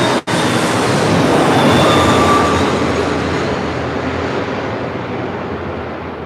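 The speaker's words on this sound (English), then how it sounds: "Got the Emirates A380 making that turn, now heading to the gates of Delray." An Emirates Airbus A380 taxis and turns at LAX, its engines producing a loud, steady broadband roar that fades slightly toward the end, with a brief click near the start.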